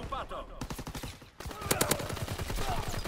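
Rapid bursts of gunfire in Call of Duty: WWII crackle in quick succession, loud and continuous, with a brief dip before the shooting intensifies.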